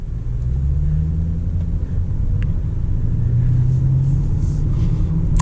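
A Lamborghini Urus in sport mode accelerates from first gear on a gloomy New Jersey road, its engine a steady low rumble that builds slightly as the car shifts on its own, heard from inside the cabin without talk.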